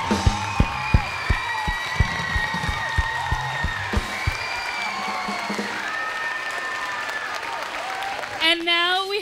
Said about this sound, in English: Let's give another round of applause to the Pride of